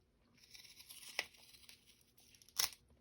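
Scissors cut through sticky carpet tape, giving faint crinkly tearing with two sharper snips, quiet and close in a still room.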